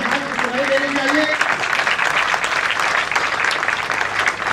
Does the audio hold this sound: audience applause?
yes